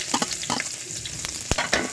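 Onion and garlic frying in a pan for pancit, with a steady close sizzle broken by several sharp stirring scrapes and clatters of a utensil against the pan.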